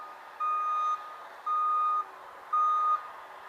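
A loader, an S185, sounds three evenly spaced reversing beeps, each about half a second long, moderately loud over a quiet background.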